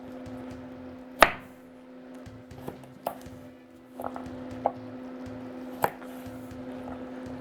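Carrots being chopped on a board with a knife, several sharp separate cuts at an uneven pace, close by, over a steady low kitchen hum.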